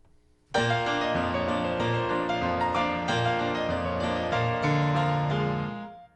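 Sustained piano chords played with the sustain pedal, the notes ringing together and smearing into a continuous wash, steady and fairly loud, no voices.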